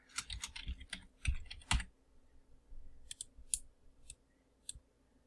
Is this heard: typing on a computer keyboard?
yes